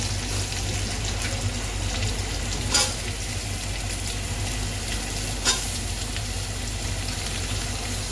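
Ridge gourd sizzles steadily in a hot pan, a constant loud frying hiss broken by a couple of brief scraping stirs, with no talk.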